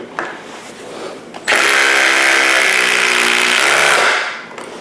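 A 12V subcompact impact driver from Milwaukee or Skil drives a 6-inch, 5.6 mm bit into wood, a loud continuous high-pitched whirring and buzzing for about two and a half seconds that then winds down.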